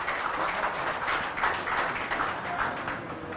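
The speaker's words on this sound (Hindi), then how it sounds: "तालियों के साथ हमारे मेयर साहब का स्वागत किया जाए।" An audience at a smart city summit mayors' conclave in Kalyan claps steadily to welcome the mayor on stage, a moderate, continuous patter of many hands heard from a distance without voices.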